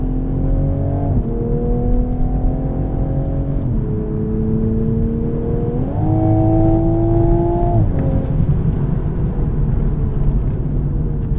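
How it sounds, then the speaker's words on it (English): A Toyota Supra Mk5 under hard driving, its engine droning loud and close while the ZF automatic shifts through rising and falling gears, with a brief dip as it slows. "Brake later, and you'll kind of see that transmission really work."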